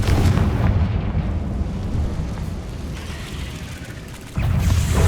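The Confringo blasting spell in Hogwarts Legacy erupts in heavy, rumbling explosions: a long booming roll that gradually subsides, then a fresh loud blast hitting near the end.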